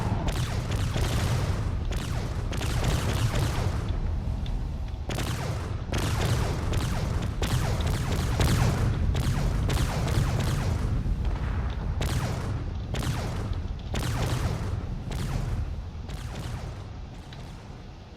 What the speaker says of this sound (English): all that railgun fire is eventually going to break through, and that might cause some really big problems on this cruiser